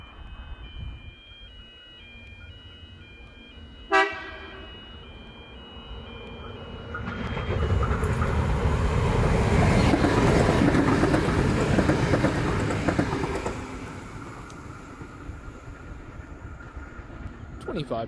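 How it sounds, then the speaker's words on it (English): The down Canberra-bound Explorer passenger train, with power cars 2506 and 2526, runs through platform 2 at Tahmoor station. A sharp horn sounds early, then the rumble and wheel clatter swell loudly as it passes close by and fade toward the end. "Passing through platform 2, we'll have the Down Canberra bound Explorer."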